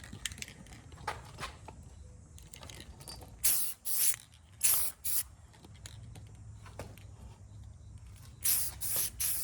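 Varathane water-based spar urethane sprayed from an aerosol can fitted with a spray tip, in short, sharp hissing bursts of about a second each, close and loud, separated by quiet gaps with faint handling noise.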